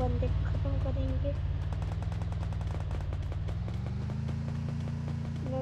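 Rapid bursts of automatic gunfire crackle through a shooting video game, steady and fairly loud across the whole stretch, with a low drone of game audio and music running beneath.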